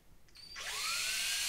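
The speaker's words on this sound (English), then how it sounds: "You could use a hand drill like this." Hand drill spinning up and biting into metal, a short close whine that rises in pitch then holds at a loud, sustained high-pitched grind.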